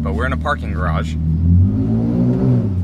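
A 2022 Toyota Tundra with a Carven exhaust revs in a parking garage, a deep, loud exhaust drone building and holding, with someone talking over the first second.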